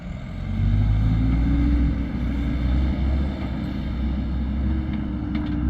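A heavy tractor engine drones at a low pitch as it drives past, loud and steady, close by for several seconds and then easing slightly, with no voices.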